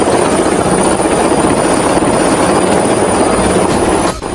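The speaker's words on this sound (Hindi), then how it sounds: "अपने पर्सनल हेलीकॉप्टर पे स्कूल आता है" A helicopter flies close by, a loud, steady rotor roar with a dense chopping texture that fills the whole stretch and drops off abruptly at the end.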